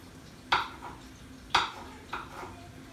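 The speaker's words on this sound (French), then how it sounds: "Je coupe le gombo comme ça." Knife chopping okra for a Congolese smoked-fish gombo dish: three crisp cuts at steady intervals, close and moderately loud, with no talking.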